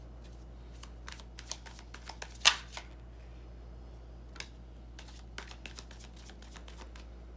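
Tarot cards being shuffled and drawn during a reading, a string of soft crisp riffles and flicks spread through the clip with one sharper snap near the middle, close and quiet with no voices.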